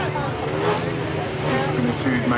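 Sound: 500 sidecar motorcycles revving and starting a grasstrack race

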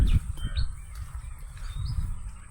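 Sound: birds chirping outdoors

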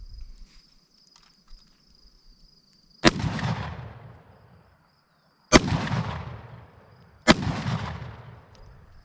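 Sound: firing homemade rolled and filled shotgun cartridges

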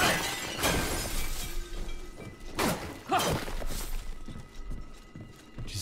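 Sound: vases shattering in the video game Remnant: From the Ashes

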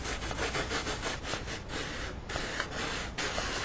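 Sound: sanding block on tin can

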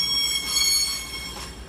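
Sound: train wheels squealing, Class 222 unit 222013 at Derby

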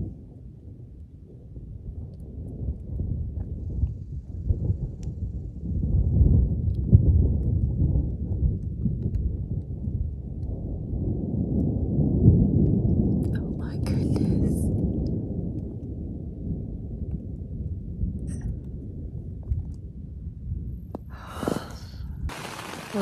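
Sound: thunderstorm with rumbling thunder and rain

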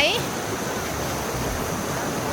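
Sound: flowing water

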